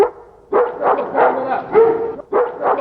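Dog barking loudly and close in several rapid bursts, with yelping, whining tones between barks, on a theater stage in Adana.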